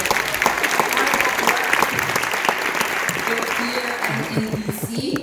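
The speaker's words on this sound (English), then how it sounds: "My team, if you guys can give them a round of applause" An audience applauds at a community event on Black mental health, with steady clapping that carries on while a voice begins speaking over it toward the end.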